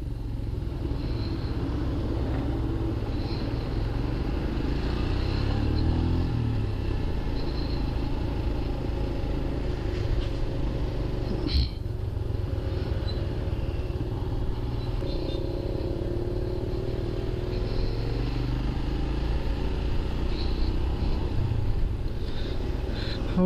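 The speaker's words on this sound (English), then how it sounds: "this is the new Himalayan which I got for myself specially for the touring purpose" Royal Enfield Himalayan motorcycle riding along, a steady low engine rumble under constant wind noise, sustained and even throughout.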